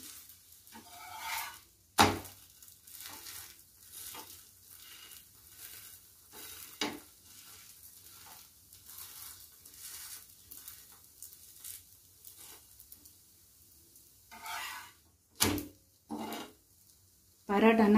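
Parotta frying on a hot tawa as its edges are pressed down, a quiet continuous sizzle broken by sharp scraping and pressing bursts, with a voice talking over much of it.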